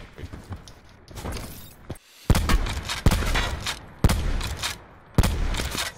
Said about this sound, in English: Shooting from construction.